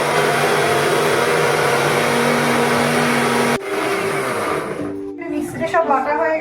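Electric blender grinding cauliflower, green chili and coconut into a paste, a loud steady motor whine that cuts off abruptly, followed by quieter clatter and faint voices.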